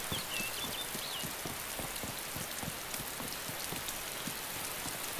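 Steady rain falls in the DayZ game world, a dense even patter of drops hitting surfaces throughout, with faint bird chirps early on and no talk.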